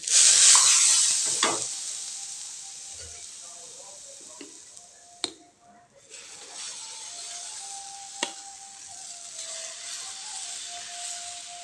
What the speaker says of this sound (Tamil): இப்போ தோசை ஊற்றிக்கலாங்க அடுப்பில் தோசைக்கல் வச்சுக்கலாம்